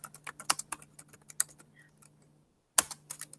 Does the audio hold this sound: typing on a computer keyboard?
yes